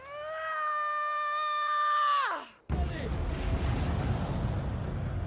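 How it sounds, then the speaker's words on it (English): In the Heavenly Sword video game, a medieval bazooka fires deadly fireworks: a rising whistling, harmonic whine bends downward, then breaks into a loud burst of crackling, rumbling noise that fills the rest. "Noriko will also get her hands on a kind of a medieval bazooka that launches deadly fireworks."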